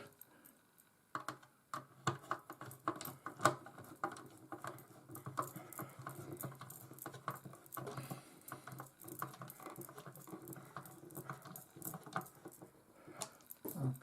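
Screws are driven into the circuit board of a Bush DAB-1507BT radio, producing quiet, rapid ticking and clicking with small rattles in an irregular patter, close and faint.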